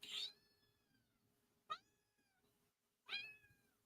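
A cat meows three times, soft and fairly close, each call a short rising-then-falling cry spaced about a second and a half apart, with quiet room background between.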